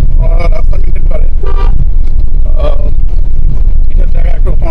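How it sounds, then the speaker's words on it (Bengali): A car horn gives several short honks over loud road and engine noise on a damaged mountain road in Arunachal Pradesh, with people talking in the car close by. "এটার জায়গায় একটু হর্ন দিয়ে দিতে হয়।"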